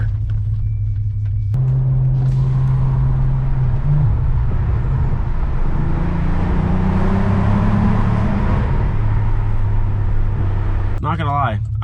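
Volkswagen Golf R 7.5 at a cars and coffee meet, a loud, steady low engine rumble with idle drone and a gentle rise in revs midway, captured up close, with talking audible over it at times.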